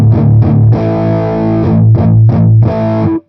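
Distorted electric guitar through an Orange OR50 amp simulation in AmpliTube 5, heavy saturated chords struck in short choppy bursts with a few longer sustained hits, loud and alone, ending abruptly.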